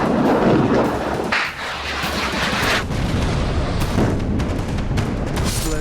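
Heavy blasts and rumbling booms from Israeli artillery fire and strikes on Hezbollah and Hamas, loud and continuous, with broadband roar swelling and dipping over several seconds and no talk.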